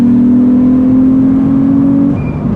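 Nissan 350Z driving and accelerating, a loud steady engine drone with a rising tone that holds for about two seconds before easing off, no voices.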